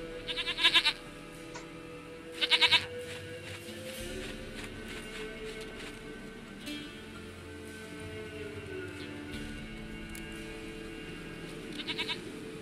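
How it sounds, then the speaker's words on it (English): A goat bleats in The Witcher 3, in three short loud bursts near the start and end, over a steady low game ambience. "Goat of mine, dearest, sweetest goat."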